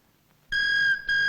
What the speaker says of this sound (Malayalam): ഏറ്റാതെ ഇപ്പൊ വരും ഫോൺ.